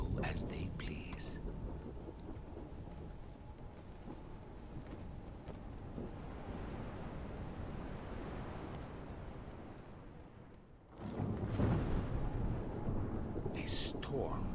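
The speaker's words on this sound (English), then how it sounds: "A storm throws itself over your vessel, shredding canvas and splintering timber." A violent storm rages over a sailing ship in the game Book of Travels, with a continuous roar of wind and rain. A louder rumbling swell rises near the end.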